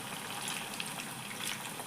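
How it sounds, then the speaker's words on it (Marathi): Dal battis deep-frying in hot oil, a steady dense bubbling hiss that stays constant and fairly loud throughout with no pauses. "त्याच पद्धतीने आम्ही बाकीच्या पण बिट्ट्या तळून घेतो"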